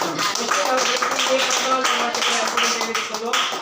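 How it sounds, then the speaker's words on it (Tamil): A small group claps for a birthday at a charity food-giving gathering for the elderly in Panruti, a brisk rhythmic patter of hands close by, with a voice speaking over it. "இனிய பிறந்தநாள் கைத்தட்டலாம், கிளாப் பண்ணலாம்."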